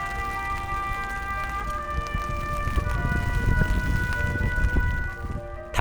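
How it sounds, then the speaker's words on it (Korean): A slow, solemn melody for the flag-lowering ceremony at a UN war cemetery in Korea, sustained tones carrying steadily over a hushed outdoor setting with low background rumble. "때마침 울려 퍼지는 국기 하강식의 선율이 탐방대원들의 마음을 숙연하게 합니다."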